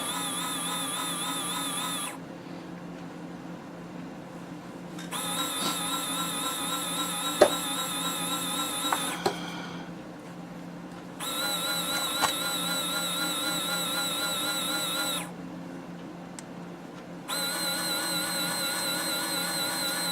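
A Frankford Intellidropper powder dispenser trickling fine powder, running in bursts of mechanical whirring that stop and restart several times, with faint clicks between; no talking.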